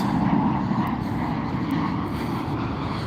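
Airplanes pass overhead in Bensenville, Illinois, a steady, loud jet engine roar that fills the whole stretch without speech.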